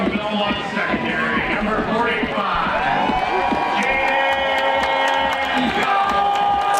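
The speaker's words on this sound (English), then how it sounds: "a nice loud cheer now for Jaden Cull" Crowd at a summer collegiate baseball game between the Victoria HarbourCats and Port Angeles Lefties cheers loudly, with whoops, shouts and scattered clapping forming a continuous roar throughout, with a few high calls standing out.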